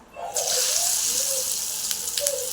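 Kothimbir vadi, crisp coriander fritter pieces, shallow-frying in hot oil, giving a steady, fairly loud hiss and sizzle throughout, with a faint voice now and then underneath.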